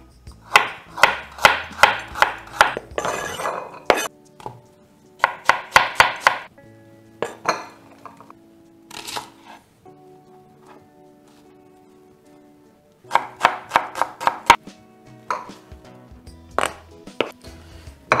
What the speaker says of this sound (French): on émince tout de suite les légumes.